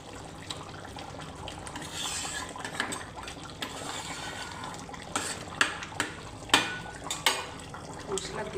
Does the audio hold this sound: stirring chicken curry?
yes